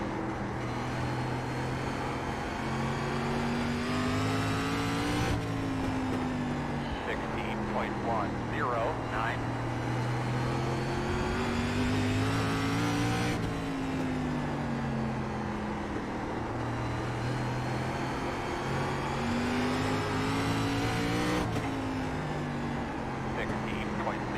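An SRX race car engine in iRacing at South Boston Speedway drones steadily throughout, pitch rising and falling with shifts and corners. Its loud, continuous tone sounds alone, without speech.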